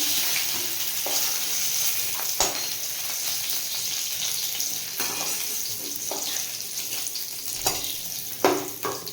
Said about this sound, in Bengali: আলুটা আমার ভাজা হয়ে গেছে এবার তুলে নেব